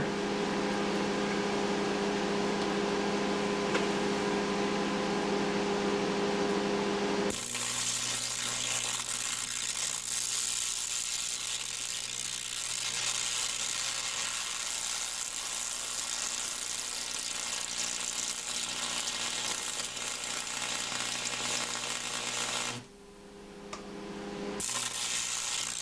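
A carbon arc torch heats a piece of metal with a loud, steady, roaring buzz and hiss that runs nearly the whole time. The tone shifts partway through and drops out briefly near the end before it resumes.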